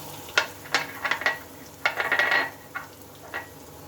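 Ground lentil paste with turmeric and salt is stirred in a hot pan. Close, irregular scraping strokes and spatula clinks repeat over a light sizzle.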